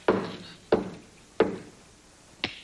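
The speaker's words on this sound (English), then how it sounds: "Answer the door, Tiny Tim" Four sharp knocks on a wooden door at an uneven pace, the first three close together and the last after a pause, fairly near and standing alone.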